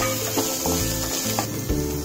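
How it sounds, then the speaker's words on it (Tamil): Radish pieces hitting a hot pan for radish chutney, a close, loud sizzle and frying hiss with stirring scrapes, steady over a couple of seconds. "இப்போ இதில் நம்ம முள்ளங்கி ஆட் பண்ணிடலாம்."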